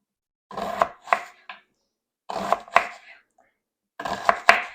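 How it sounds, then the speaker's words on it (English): A knife slices cabbage thinly on a cutting board, making three clusters of two or three crisp, close crunching cuts separated by short pauses. "we're going to just slice it as thin as we can get it"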